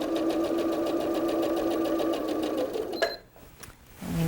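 A sewing machine chain sews quilt pieces, running fast and steady with a rapid rhythmic needle chatter up close, then stopping abruptly and starting again briefly at the end.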